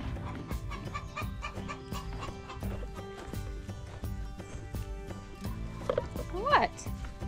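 Chickens cluck in bursts against a busy outdoor backdrop in a garden, with a louder squawk near the end.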